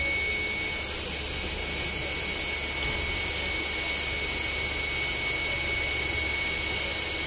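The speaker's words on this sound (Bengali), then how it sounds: "তো আমরা এখন 2000 ওয়াটে চেক করবো। যাও, হেভি পাওয়ারফুল একটা মেশিন" A BD BOSS 400S ultrasonic inverter machine runs at 2000 watts, giving off a loud, steady, high-pitched whine and whirring drone that holds unbroken throughout.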